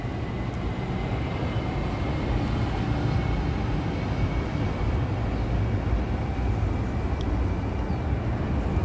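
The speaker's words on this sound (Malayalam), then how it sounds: "ഇപ്പം നമുക്ക് മെട്രോ പോകുന്ന കാണാം." Kuala Lumpur metro train passing, heard from a hotel apartment: a steady, fairly faint broadband rumble that holds evenly throughout with no voices.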